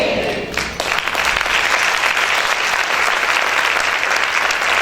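A church congregation applauding loudly in praise, a dense sustained wash of clapping that swells after a brief opening and holds steady to the end.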